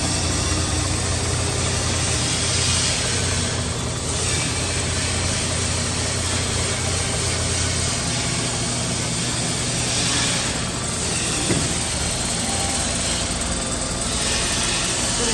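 Buick car engine idling steadily in a workshop, a continuous, fairly loud, even rumble with a faint background hiss and occasional subtle swells, and no talking.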